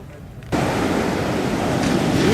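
Ocean surf at Nazaré beach in Portugal breaks in a broad, loud wash that swells suddenly after a quieter opening and roars on steadily, mixed with wind buffeting the microphone.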